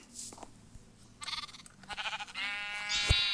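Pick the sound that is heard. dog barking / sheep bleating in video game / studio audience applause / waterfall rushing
sheep bleating in video game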